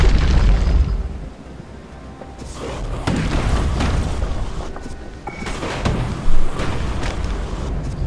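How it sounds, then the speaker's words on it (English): Grenade blasts in a video game, heavy booming rumbles that swell and decay over several seconds, with a sharper burst late on. "Throw grenades with right trigger"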